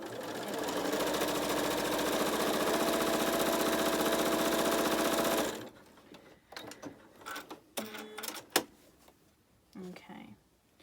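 A sewing machine pieces a quilt block in one continuous, even whirring run of about five seconds, followed by quiet handling clicks and rustles.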